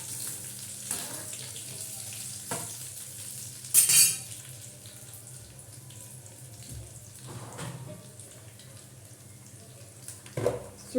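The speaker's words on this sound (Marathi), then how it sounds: "तेल टाकलंय आहे आता आपण सुकट टाकत आहे" Dried shrimp fry in hot oil, making a faint steady sizzle with a few louder clattering spatula bursts along the way.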